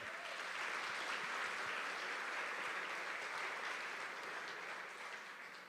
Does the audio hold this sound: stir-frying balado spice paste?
no